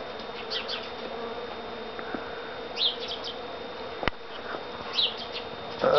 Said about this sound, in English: The bees are working really hard on this tree.